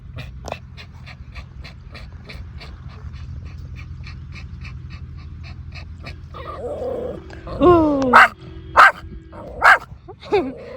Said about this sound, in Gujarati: કૂતરું પરીને જોવા આવ્યું ગાઈસ.